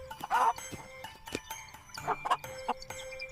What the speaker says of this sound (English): This is a chicken. It lives on a farm.